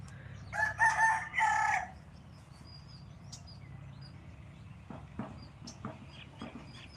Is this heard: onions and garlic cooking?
no